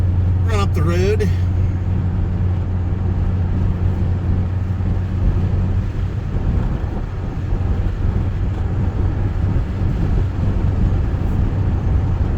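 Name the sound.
pickup truck driving up the road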